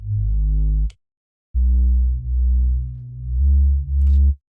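Three sustained low synth bass notes with a bright buzzy saw-wave layer an octave up, separated by a short silence, played alone with no voices, in a future garage style.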